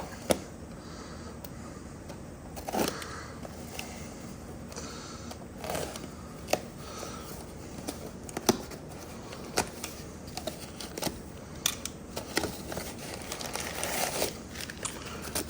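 A UPS delivery box for a Six Million Dollar Man pinball machine restoration being opened, with close crinkling and rustling of packaging and scattered sharp crackles and ticks over a low background.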